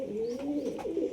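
Old pet pigeon, a kalshira or jiria-gola pair, giving a short close cooing call with a rising then falling warble.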